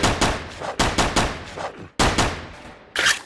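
Rapid bursts of gunfire from the roguelike looter-shooter game Last Heli, several loud volleys of repeated shots with short gaps between them and no talking.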